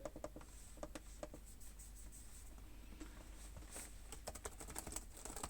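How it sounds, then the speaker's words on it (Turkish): Light, quick clicking of HP Victus 15 gaming laptop keys being pressed in an irregular rhythm, close and fairly quiet, with no voices. "Yine klavye tuşlarının da sesini duyurmuş olayım"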